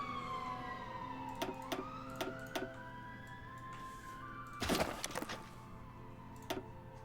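An emergency vehicle siren sounds outside, a steady wailing tone that slowly rises and falls at a moderate distance, broken by a few sharp clicks and a short noisy burst.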